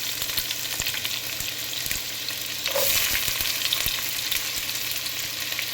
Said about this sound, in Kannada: ಈರುಳ್ಳಿ ಸ್ವಲ್ಪ ಕೆಂಪು ಬಣ್ಣ ಬರೋವರೆಗೂ ಫ್ರೈ ಮಾಡ್ಕೊಳ್ಳಿ ಮೊದಲಿಗೆ